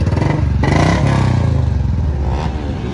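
Several motorcycles, a Bajaj Dominar, a KTM Duke and an Apache RR 310, rev together up close, their engines droning loudly and steadily with rising throttle bursts and some clatter throughout.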